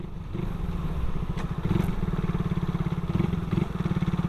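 Suzuki Raider 150 carbureted motorcycle riding over an uneven, bumpy road, its engine thrumming steadily and close with a rapid pulsing rhythm, plus faint clatter from the jolts.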